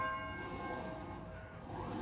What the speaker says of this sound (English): this bell that we ring